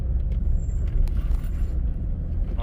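A Jeep WJ crawling along a bumpy, off-camber off-road trail, with a loud, steady low engine rumble and faint rattles throughout.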